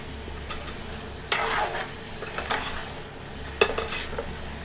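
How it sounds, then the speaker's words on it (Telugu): Mutton being stirred with salt, chili and ginger paste in a pan, steady sizzling frying under a few sharp spoon scrapes and clinks against the pot, close and moderately loud, with no talking. "ఉప్పు కారాలు అల్లం పేస్ట్ ఇవన్నీ మటన్ పట్టేలాగైతే కలుపుకుందామండి"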